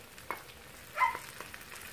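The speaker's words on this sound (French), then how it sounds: "Et je fais mijoter le tout environ 2 à 3 minutes." Ground meat and eggplant cooking in a pan with grated tomato, giving a soft, low sizzle with a brief louder stir-like burst midway and faint clinks, quiet throughout.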